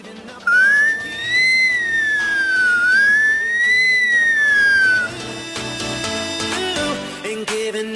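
A boy imitates an ambulance siren with his voice, a loud, close rising-and-falling whistled wail that sweeps up and down twice over several seconds before giving way to background music.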